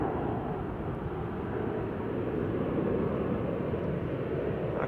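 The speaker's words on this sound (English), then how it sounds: "EFI 737-800 on the roll there." A Boeing 737-800 rolls for takeoff at Manchester Airport, a steady, low, broad engine roar heard from a distance, with no voices.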